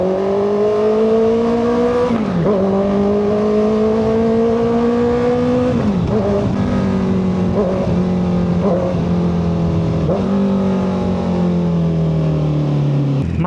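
A Honda CBR650R inline-four sports bike engine revs hard and loud throughout, its pitch climbing steadily and then dropping sharply at several gear shifts, with no talk over it.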